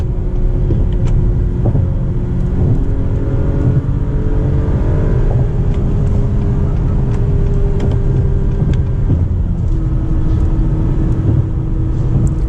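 An Acura RDX A-Spec SUV accelerates on the highway, heard from inside the cabin as a steady engine and road rumble with rising tonal whine, continuous and fairly loud throughout.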